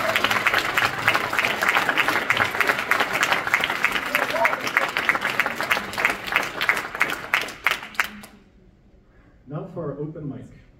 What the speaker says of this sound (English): Can we have one more round of applause for my amazing son?